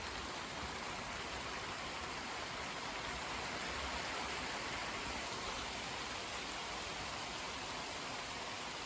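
A steady rain shower falls in a continuous broadband hiss, a constant wash of drops heard alone at moderate volume for several seconds.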